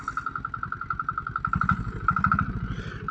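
A Royal Enfield motorcycle engine thumps in a steady, close single-cylinder rhythm while being ridden, with the throttle feathered and the beat loudening and roughening partway through.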